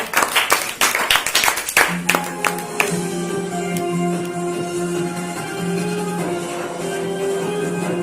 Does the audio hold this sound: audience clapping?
yes